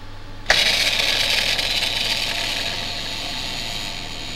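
A wheel spins in a Wheel of Fortune plug-and-play TV game, a sudden onset of rapid ratcheting clicks that gradually slow and fade over several seconds.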